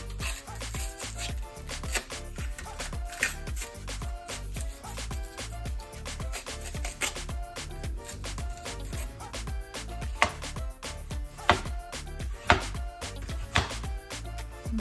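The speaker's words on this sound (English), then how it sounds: "I'm gonna try to slice them as thin as possible." A knife cuts green plantains into thin slices in a quick, steady rhythm of crisp, repeated taps against a board, close by, with no voices.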